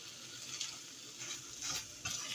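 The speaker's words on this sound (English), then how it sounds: "you just mix that up in your meat sauce" Diced tomatoes being stirred into a vegan meat sauce in a pan, with a steady sizzling hiss and soft scraping strokes of the spoon close by, no talking.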